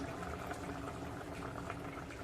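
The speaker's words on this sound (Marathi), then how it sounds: "कालवणाला छान अशी उकळी आलेली आहे" A fish head curry with raw mango and coconut milk, made in Agri style, bubbles at a steady rolling boil in a pot, a dense close simmering sound without any talk.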